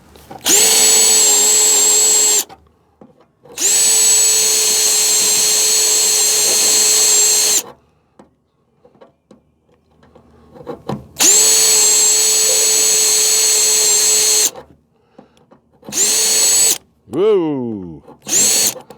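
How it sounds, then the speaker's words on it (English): A power drill whines loudly in several long bursts of steady high pitch while drilling through a metal radiator core support, stopping between runs, with a final short spin that winds down unevenly. "I'm really only trying to drill through one side."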